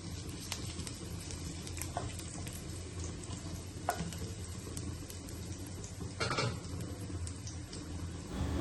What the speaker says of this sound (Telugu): దీంట్లో కొంచెం గార్లిక్ అండ్ అల్లంని చాప్ చేసుకొని వేసేసుకుంటున్నాను.